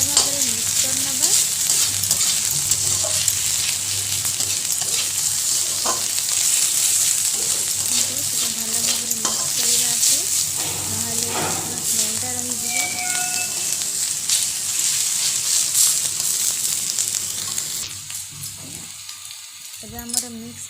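Onions with garlic and ginger sizzle and fry steadily in a pan for paneer steamed momos, with scraping stir clatters throughout, close and continuous, fading to quieter sputtering near the end.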